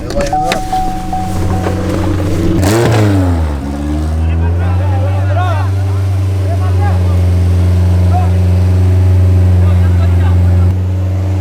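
A right-hand-drive Mazda Miata's engine idles steadily close by, with a brief rev near the start, while people talk over the constant low rumble.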